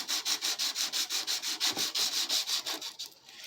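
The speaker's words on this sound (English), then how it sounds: "move sandpaper around, but lift it and place it." Sandpaper rubs on a Hondo 2 classical guitar in a steady back-and-forth rhythm of about a dozen quick, close strokes, then trails off, with no talk.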